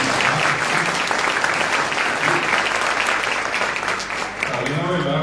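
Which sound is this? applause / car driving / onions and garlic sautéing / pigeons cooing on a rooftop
applause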